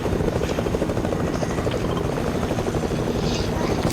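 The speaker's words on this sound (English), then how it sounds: "The chopper is over there, yeah." A video-game helicopter thrums steadily and loudly throughout, a dense rotor-and-engine roar that never lets up.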